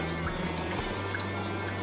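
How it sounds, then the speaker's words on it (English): Water runs and trickles into a kitchen sink as soaked tofu is pressed under a plate, a steady close splashing stream lasting the whole moment without talk. "we're gonna squeeze all this water off"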